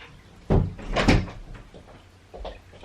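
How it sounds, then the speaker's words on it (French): A door being pushed shut indoors in a quiet room: a solid thump followed by a second louder knock as it latches, then a softer bump, all close by. "Je vais juste fermer la porte."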